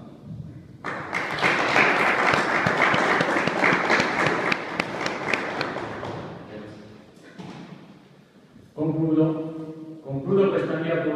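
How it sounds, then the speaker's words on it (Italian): Town council members applaud together in a municipal council chamber, a dense burst of clapping lasting several seconds before thinning out, followed by a voice speaking. "Signore consiglieri, unitevi a me nel ringraziamento con un applauso."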